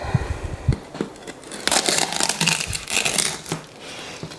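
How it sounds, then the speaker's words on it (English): A knife crunching and cracking through crisp roast pork crackling up close, bursts of brittle crackles and snaps building into a dense crunch. "we had that beautiful, beautiful crunching sound of the pork"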